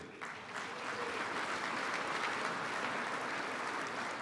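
Sustained audience applause fills a banquet hall at a college football awards dinner, a dense, steady clapping from a large crowd that swells after a quiet start and holds evenly throughout.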